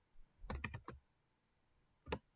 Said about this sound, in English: Let's type a new one in.